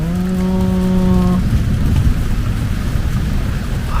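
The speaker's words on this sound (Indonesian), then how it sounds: "apalagi ini lagi hujan gerimis romantis ini berkabut" Drizzling rain falls steadily over a foggy hillside garden in the mountains, a loud continuous hiss throughout, with a brief low engine-like hum at the start.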